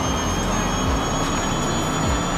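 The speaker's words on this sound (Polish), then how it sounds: "I ten dźwięk taki syczący, ja myślę, że w rzeczywistości aż tak dobrze go nie słychać, tych silników." A steady, loud hissing whine comes from the external speaker of an Xpeng P7 electric car in Forza Horizon 5, a continuous synthetic tone held without a break through the whole stretch.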